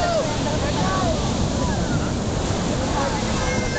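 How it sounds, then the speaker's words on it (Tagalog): Large sea waves roll onto a beach where people haul in a fishing net, producing a continuous loud wash of surf with gusty wind noise on the microphone. "Napansin-pansin na medyo malalaki ang alon."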